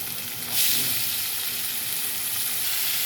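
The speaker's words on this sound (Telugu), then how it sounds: "ఉల్లిపాయలు పచ్చిమిరపకాయలు వేసేసుకున్నాం" Onions and green chillies frying in a pan for an egg and tomato dish. A sizzle rises abruptly after about half a second and then holds steady and bright without any talking.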